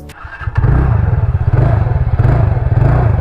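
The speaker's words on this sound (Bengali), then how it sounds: "কে বলবে এটা শুনে যে এটা স্কুটারের এক্সস্ট?" A TVS Ntorq 125 Race XP scooter's exhaust catches and then revs steadily, a close, loud, thumping engine note with rapid pulsing and a brief clatter as it fires up.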